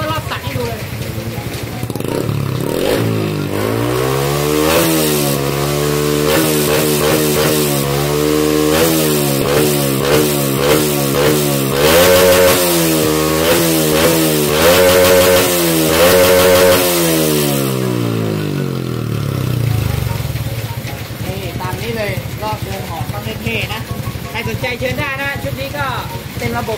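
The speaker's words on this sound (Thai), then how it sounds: "ผมเล่นปั๊มรอบแล้วก็รอบตัดให้ดูเลย" Honda Wave 110i motorcycle engine, remapped, revving repeatedly up against its rev limiter around 11,000 rpm, the cut-off stuttering rhythmically, loud and close for about fifteen seconds before dropping back to a rough idle.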